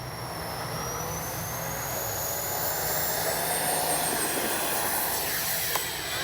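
A Freewing Flyfans Su-27 model jet with 64mm electric ducted fans comes in to land, giving off a steady whooshing fan roar with a thin high whine that shifts in pitch as it passes, moderately distant.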